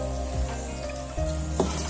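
Water goes into a hot wok of taro stems being cooked Sasak style, raising a steady, close, loud sizzle and frying hiss with occasional stirring scrapes.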